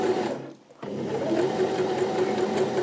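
A Janome 725s sewing machine stitching a one-step buttonhole, a steady whirring hum after a short pause, close and continuous with no talk.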